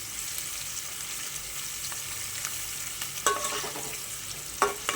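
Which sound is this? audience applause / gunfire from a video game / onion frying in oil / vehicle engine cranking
onion frying in oil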